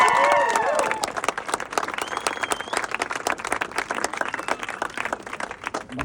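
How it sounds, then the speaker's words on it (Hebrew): Applause and clapping for brides and grooms at a gathering at the Paran Brigade headquarters in Ketziot, a crowd clapping steadily and loudly for several seconds, with a brief voice and whistle-like tones at the start. "כפיים. כל חתן וכל כלה."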